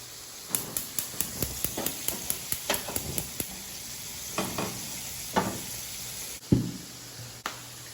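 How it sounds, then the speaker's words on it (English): Chicken pieces frying in hot oil for sweet and sour chicken, giving a steady sizzle broken by a quick run of regular clattering stir or scrape knocks, then a few louder bursts near the pan, with no talk. "In the meantime, the chicken is fried."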